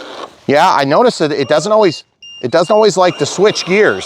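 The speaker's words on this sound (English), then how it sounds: "what you're hearing is a voltage alarm." Voltage alarm on a Redcat Gen9 International Scout 800A 1:10 RC trail truck gives a steady high electronic beep under a man's speech. The tone is briefly heard alone during a pause.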